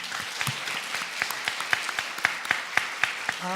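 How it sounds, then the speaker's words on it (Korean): Light, rhythmic clapping from a church congregation during a Sunday morning service, steady evenly spaced claps at moderate distance with little else heard. "우리 큰 격려의 박수 한번 부탁드리겠습니다"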